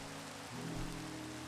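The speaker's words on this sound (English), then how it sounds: "cue the rain as I start recording" Video game rain falls in Minecraft, a soft, even hiss of steady downpour under a low droning hum, continuous and fairly faint throughout.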